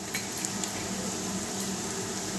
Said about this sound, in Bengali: আমি লাল করে ভেজে নিচ্ছি